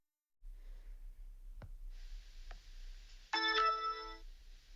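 A telephone ringtone for a radio call-in show chirps briefly and fairly quietly after near silence, with soft breathing sounds just before it.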